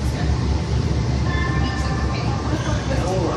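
Metro train in Santa Monica rumbling steadily close by, with a low continuous rolling drone and faint high squeal tones through most of the stretch; a voice can be heard faintly.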